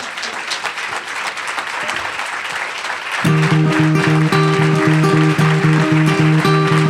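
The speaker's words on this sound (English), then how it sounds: "So let's give Gillian a round of applause." Clapping from a conference audience fills the opening seconds, then music with steady sustained tones comes in and continues under the clapping.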